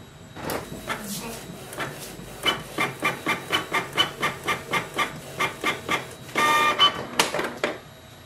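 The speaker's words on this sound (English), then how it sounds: "So here we can see the Windows printer test page" Canon Pixma G3260 inkjet printer running a test page, a rapid series of rhythmic mechanical strokes as the print head shuttles, ending in a louder paper-feed whir, with someone talking over parts of it.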